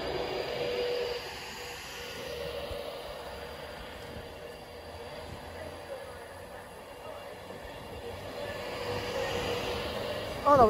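A train pulls away from Wigan North Western station, a low rumbling rolling drone with faint wheel squeal, steady and moderately distant, with a short spoken remark over it.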